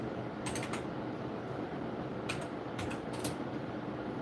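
Typing on a computer keyboard into a search engine: a few quiet bursts of rapid key clicks separated by pauses, close and soft over a faint steady background hum.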